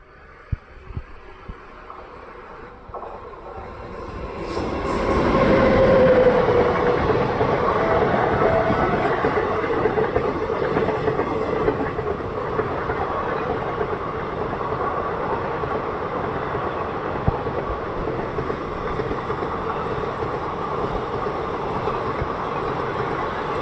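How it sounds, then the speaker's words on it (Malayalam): A train hauled by a WP7 locomotive rumbles past at close range at Vellayil station, its engine and wheels building to a loud, sustained roar that holds steady for the rest of the clip. "റോയാപുരം ലോക്കോ ഷെഡിൻ്റെ ഒരു ഡബ്ല്യു പി സെവനാണ് നമ്മുടെ ഈ ട്രെയിനിൻ്റെ ലോക്കോ"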